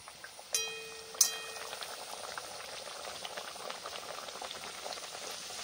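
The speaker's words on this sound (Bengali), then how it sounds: "এবার এক এক করে লুচিগুলোকে ভেজে নেব।" Mango luchi deep-frying in hot oil in a kadai, a soft, steady bubbling sizzle after two sharp metallic clinks near the start, quiet and close with no talk.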